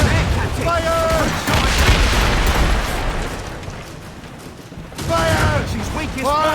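Ship cannons fire in the naval battle of the video game Assassin's Creed Rogue, loud booming volleys and rumbling blasts that roll on for several seconds, with shouted commands heard before and after.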